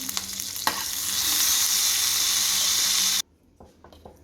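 Curry leaves crackle in hot oil as a phodni tempering for kadhi, a loud continuous sizzle with a small clink early on that cuts off abruptly, leaving faint kitchen noises.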